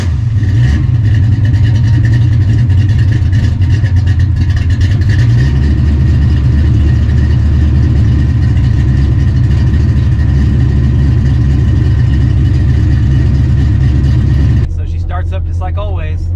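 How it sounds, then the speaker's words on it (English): A carbureted Foxbody car engine cold-starts with a loud crank and catch, then settles into a rough, steady idle close by before cutting off near the end, with someone talking over it. "I've never started this thing when it was cold, so this will be like a little cold start video"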